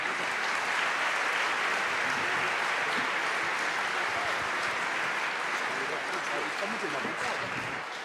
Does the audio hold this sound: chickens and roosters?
no